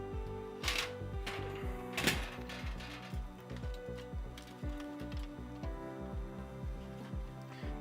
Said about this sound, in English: Then we're gonna take out our